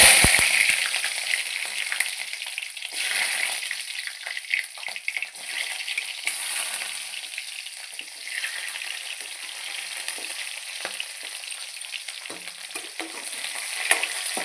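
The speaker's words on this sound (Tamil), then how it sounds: "கடுகு போட்டுக்கலாம், வெங்காயம் போட்டுக்கலாம், சோம்பு போட்டுக்கலாம்." Mustard seeds, onion and fennel frying in a pan for a fish curry, producing a continuous bright sizzle with scattered crackles and stirring scrapes close up, with no voices.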